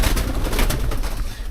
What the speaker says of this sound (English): I might spook a few pigeons, it's just the way it is